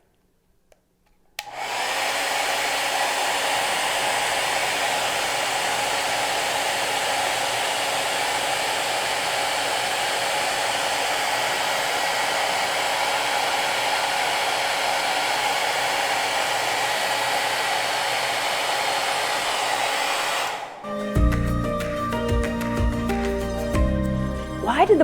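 A hair dryer is switched on and blows steadily and loudly, holding a ball up in its airstream for a home science demonstration of Bernoulli's principle. It cuts off near the end, followed by a brief clatter.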